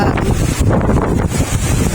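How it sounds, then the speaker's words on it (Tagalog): Strong, gusty typhoon wind buffets the microphone in a constant heavy roar, loud and close throughout. "Kalakas-lakas sa hangin"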